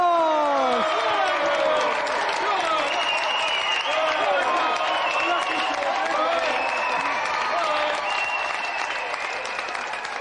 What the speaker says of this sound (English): So, a big round of applause for our gallant competitor, George Xenophontos!